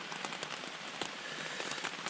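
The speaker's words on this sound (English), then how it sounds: "let's hope this rain lets up before 10 o'clock." Rain falls on a camping tent during a thunderstorm, a steady dense hiss of patter with occasional sharper drops tapping close by.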